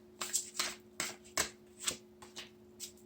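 Tarot cards being shuffled by hand, a series of crisp riffling bursts about every half second, close and fairly quiet over a steady low hum, with no voice.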